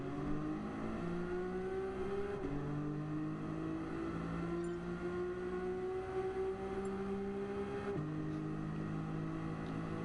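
A Nissan GT-R engine in Gran Turismo Sport holds a steady droning tone that climbs in pitch, drops back at gear shifts and climbs again, continuous and close throughout with no voices.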